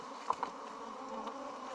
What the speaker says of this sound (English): They have a lot of bees in it.